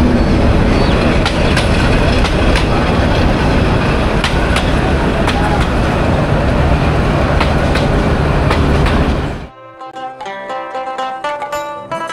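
A train rolls along a railway line running through a busy rural market in Bangladesh, a loud, close continuous rumble and clatter of wheels that suddenly drops away near the end, leaving faint background voices.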